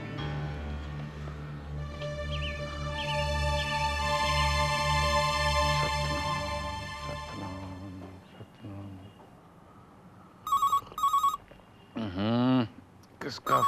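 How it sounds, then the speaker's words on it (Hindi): Music plays for several seconds, then an electronic phone ringtone sounds in two short, bright bursts, followed by a brief warbling tone. "किसका फोन आ गया है भाई?"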